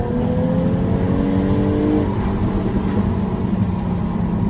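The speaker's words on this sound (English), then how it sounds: "You get the awesome sound from the exhaust pipe." A Jaguar F-Type V6 S coupe's supercharged V6 exhaust growls loudly and steadily, with the engine note rising and falling as the throttle is worked, close by.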